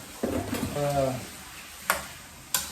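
Softened okra tipped into a hot frying pan and stirred, with a brief sizzle and scraping, then two sharp utensil clanks against the pan; a voice speaks briefly at the start.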